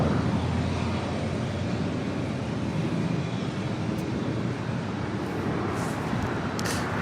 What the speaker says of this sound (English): the SAS Scandinavian A350 heading back to Copenhagen